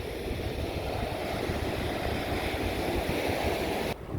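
Sea waves at New Alamein beach on the Egyptian coast wash in as a steady, broad surf roar with some wind noise, continuous and fairly close, no voices.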